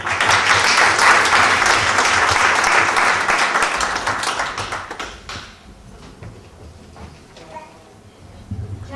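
A church audience applauds loudly and steadily for several seconds at an evening gathering, then the clapping fades into scattered claps and a speaking voice.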